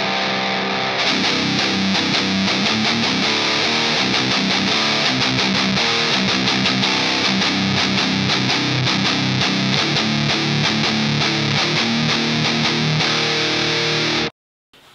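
Heavily distorted electric guitar played through a boosted Mesa Dual Rectifier amp, a loud continuous riff of chugging chords and palm-muted notes lasting nearly the whole stretch before cutting off abruptly.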